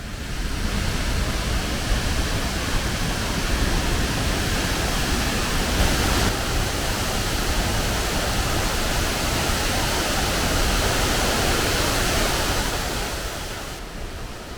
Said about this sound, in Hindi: गांव के आगे लगभग 1 किलोमीटर की दूरी पर इस ब्रिज के पास है ये सुंदर झरना।